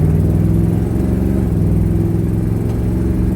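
A mildly warmed-up 383 H-code V8 in a 1967 Dodge Charger runs at close range with a loud, steady low rumble. Its pitch dips and recovers slightly midway, and an exhaust tick sits in the mix.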